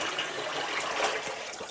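Hot water from a pot pours steadily into a kitchen sink with a continuous close splashing rush and no talking.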